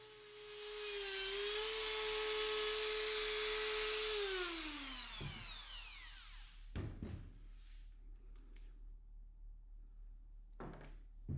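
A bench grinder deburring the sharp edges of lathe jaws runs with a loud, steady motor whine, then is switched off and winds down in a falling tone, followed by a few sharp knocks nearby.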